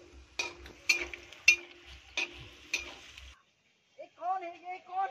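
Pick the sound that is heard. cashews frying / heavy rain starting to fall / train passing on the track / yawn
cashews frying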